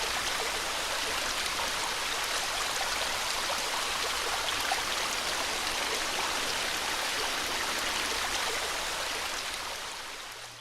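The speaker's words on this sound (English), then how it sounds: "half of them are waterfall rocks, and they have a really nice sound actually to go with them" Rocky waterfall water rushing steadily in The Sims 4, a dense, even hiss of flowing water heard alone at moderate volume for about ten seconds before easing off at the end.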